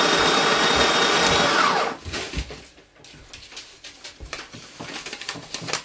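A Dualit conical burr coffee grinder grinding beans on its finest setting: a loud, even motor whir for about two seconds that cuts out, followed by scattered clatters and knocks from handling the machine.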